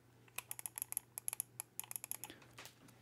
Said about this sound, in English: so this is the sound of my keyboard.